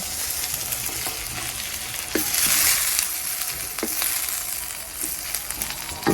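Ingredients lightly frying in a pan in a home kitchen, a loud, steady, close sizzle with a few soft stirring clicks and no talk.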